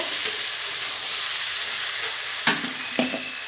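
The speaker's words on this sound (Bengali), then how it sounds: "সবজিটা দেখুন আমার সুন্দর করে কষানো হয়ে গেছে" Pui (Malabar spinach) vegetables with turmeric sauté in a pan, giving a loud, steady sizzle. Two brisk scraping stir strokes come near the end.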